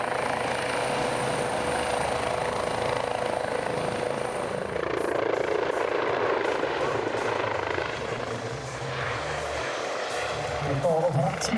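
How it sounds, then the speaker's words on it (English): A twin-engine turbine helicopter with a four-bladed main rotor and a Fenestron-type tail rotor flies at an airshow in Pardubice in poor weather. Its rotor and turbine make a continuous droning whir that swells and shifts, with a voice present beneath it. "is a twin-engine turbine helicopter with a four-bladed main rotor and Fenestron-type tail rotor"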